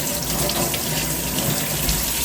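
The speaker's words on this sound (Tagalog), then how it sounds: "Bale, bago natin siya hiwain, hugasan muna natin siya dito sa may tubig." A cucumber is rinsed under running tap water at a kitchen sink. The stream is loud, close and steady, with no pauses and no voices.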